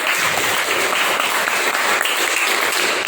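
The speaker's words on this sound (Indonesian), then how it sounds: "Nah, jadi tepuk tangan buat Alif" Classroom applause for a student during a lesson, a steady, dense burst of clapping from many hands, close and fairly loud throughout.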